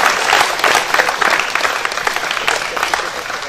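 An audience applauds the technical staff at a fencing event in Lunel, steady dense clapping filling the room throughout, close and fairly loud, with no voices on top.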